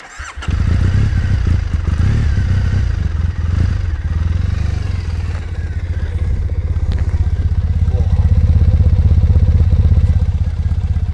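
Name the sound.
motorcycle exhaust revving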